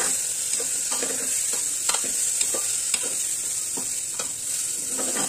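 Spices roasting in a pan over a medium flame for a mixed vegetable dish: a steady close sizzle, broken by repeated scraping and stirring strokes of a spoon against the pan.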